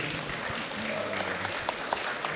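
A crowd at a Christmas church celebration applauds a karawitan gamelan group, a steady wash of clapping throughout with someone talking over it.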